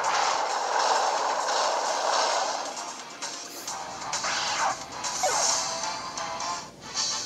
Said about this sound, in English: I'm gonna hit him with the Earthquake.